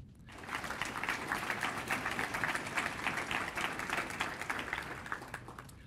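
An audience at a municipal State of the City address gives sustained applause for the city's councillors, a dense, even wash of many hands clapping that starts abruptly and holds steady for several seconds before easing slightly.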